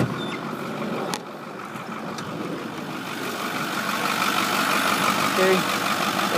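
A 2009 Ford F-550 diesel cab-and-chassis 4x4 truck idles after starting, a steady low engine rumble close by that gradually grows slightly louder, with a brief sharp knock near the start.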